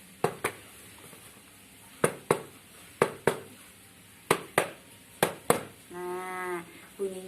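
A table at home is knocked with a fist, giving sharp, dull thuds that fall mostly in pairs with short pauses between them, and a brief humming tonal sound comes near the end.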